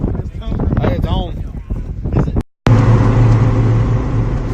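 Car interior road noise, a steady low rumble and hiss of driving, with someone talking over it for the first half before the cabin drone continues alone.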